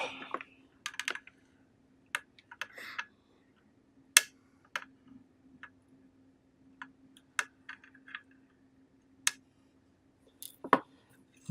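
Sharp, isolated snips of flush cutters trimming component leads on a soldered electronic badge circuit board, a dozen or so crisp clicks spaced unevenly over a quiet, faintly humming room.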